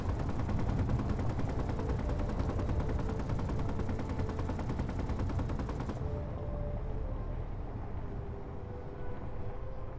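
Rapid automatic gunfire in the Space Engineers video game as ship weapons shoot at attacking drones, a dense steady rattle running continuously and loud, thinning and softening somewhat partway through.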